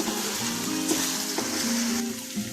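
Garlic-ginger paste frying in a pan gives a steady, close, dense sizzle with faint tonal hum underneath and no talking.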